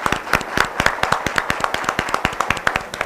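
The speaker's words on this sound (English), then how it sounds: "let's make sure we give a big round of applause for all of our spellers today" Clapping from a school district spelling bee audience, a brisk, fairly sparse run of individual handclaps at an even rhythm, heard at moderate distance with no speech over it.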